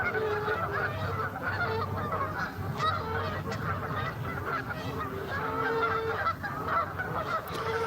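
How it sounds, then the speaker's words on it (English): Geese honk loudly and continuously near a fishing and prospecting spot, a dense overlapping racket of calls without pause and with no speech over it. "listening to these geese making an awful racket."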